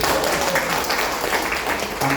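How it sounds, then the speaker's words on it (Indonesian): Hotel event audience in Pontianak clapping, a steady wash of applause held at an even level throughout, with faint voices murmuring underneath. "Tepuk tangan dong."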